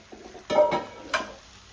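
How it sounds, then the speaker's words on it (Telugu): Mashed gongura leaves stirred into chicken curry in a pot, a few short scraping and squelching strokes of a spoon, close and clear with no talking. "గోంగూర అది వేసేద్దాం వేసి చక్కగా కలుపుదాం"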